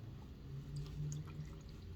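Liquid poured steadily into a BMW S1000RR motorcycle during a build, a soft continuous trickle and gurgle heard close up, faint and alone with no talking.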